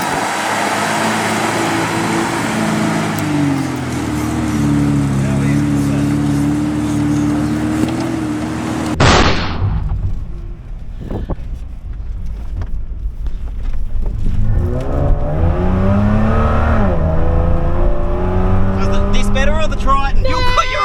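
A Mitsubishi Triton drives on a beach at lowered tyre pressures, its engine revving loudly and straining, then cutting out before the engine noise picks up again with rising and falling revs under talking.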